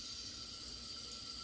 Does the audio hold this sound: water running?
yes